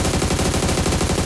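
Rapid automatic gunfire from a shooter video game, a dense rattling burst of evenly spaced shots filling the short moment at close, loud level.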